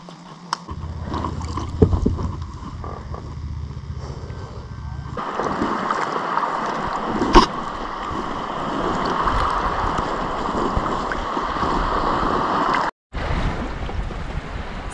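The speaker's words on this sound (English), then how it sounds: "So Matt and I were just paddling" Canoe or kayak paddling on a lake near Copper Harbor, with soft rhythmic water swishes under steady wind and lapping water, fairly close and moderately loud.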